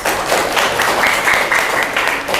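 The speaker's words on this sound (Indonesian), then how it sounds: "Ya, beri tepuk tangan buat." A classroom group claps after a group's class presentation, a short dense burst of applause from many hands, close and steady throughout.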